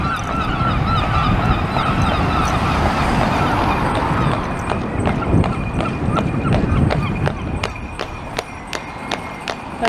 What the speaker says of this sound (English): You can hear the clip-clop of a horse pulling a landau.